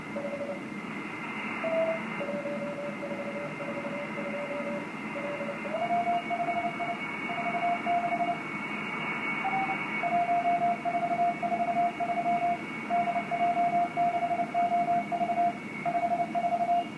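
Amateur radio data transmission on the band, with steady tonal keying bursts and acknowledgment signals repeating over a hissy, noisy receiver background, fairly constant level with no talk.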